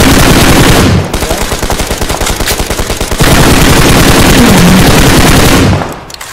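Loud automatic gunfire sprays in a shooting video game, rapid sustained bursts of machine-gun shots with a brief rhythmic stutter in the middle before dense firing resumes and cuts off near the end.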